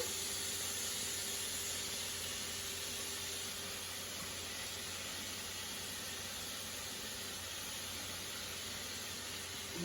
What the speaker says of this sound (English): now we're going to put in our onion